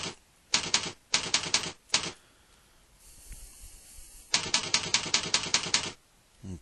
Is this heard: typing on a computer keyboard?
yes